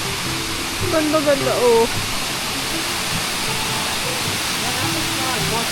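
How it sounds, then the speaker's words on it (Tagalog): A waterfall at Waterfall Gully in Adelaide, a constant broad rushing hiss of falling water, with a voice speaking briefly over it near the start. "I found six waterfalls."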